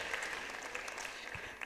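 An audience at a multi-part university event claps in a brief, quiet burst of applause that sounds somewhat distant.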